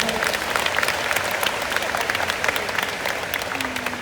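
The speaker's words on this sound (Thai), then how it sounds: "พวกเราปรบมือให้พี่น้องชาวเวียงจันทร์ที่รับเป็นเจ้าภาพด้วย" A crowd at a Buddhist teaching event in Vientiane applauds with dense, continuous clapping that stays steady throughout.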